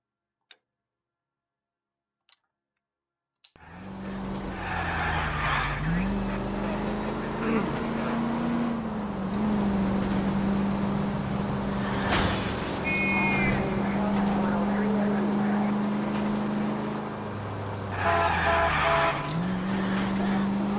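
Game car engine drones steadily in L.A. Noire, with tyres squealing as the handbrake throws it into a skid; brief sharp clicks come first, then continuous loud revving with shifting pitch and a screechy skid near the end.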